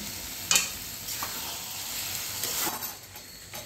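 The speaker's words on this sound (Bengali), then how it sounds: "তাই আমি সিদ্ধ করা আলুটা দিয়ে দিচ্ছি।" Boiled, salted potatoes go into hot oil and spices in a pan, giving a soft continuous sizzle broken by a few sharp stirring scrapes.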